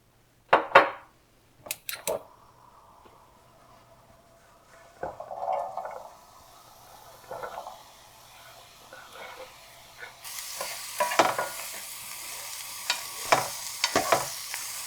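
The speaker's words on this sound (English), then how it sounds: "let's go and start sauteing this first. Not too much oil." Food sautéing in a little oil in a pan gives a soft, faint sizzle, broken by sharp clacks of stirring and utensil knocks, with the frying hiss growing brighter and louder toward the end.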